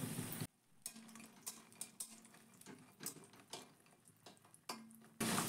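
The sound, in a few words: lentil bori frying in mustard oil in a wok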